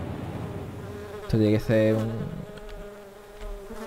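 A fly buzzing close by, with a loud, humming drone of about a second that rises and falls, then fades into quieter buzzing, while someone says a few words over it.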